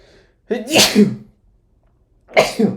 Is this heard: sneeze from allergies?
yes